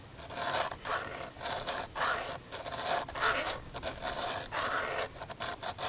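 A hand file drawn across the chain of a top-handle arborist chainsaw, close and rhythmic, with about six gritty rasping strokes and brief pauses between them.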